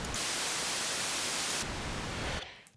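An Arturia Mini-V4 synthesizer's noise generator puts out constant pink noise, an even hiss with a slight change in tone partway through, before it fades away at the end.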